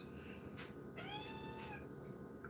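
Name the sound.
cat meowing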